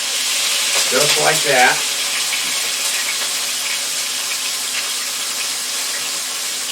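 London broil steak searing in a hot, smoking pan, a steady broadband sizzle throughout, with someone briefly speaking over it early on.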